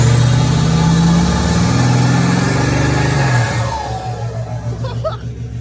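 A Ford 6.4 Powerstroke diesel with a cam, suffering cracked pistons, revs loud and steady up close, its rumble holding high before dropping to a lumpy, pulsing idle.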